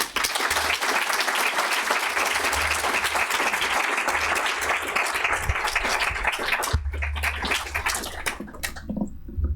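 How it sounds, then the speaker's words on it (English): Loud, sustained applause from a large audience during a visit by the UN General Assembly President fills the space, thinning out near the end. "Madam President María Fernanda Espinosa, another round of applause, please."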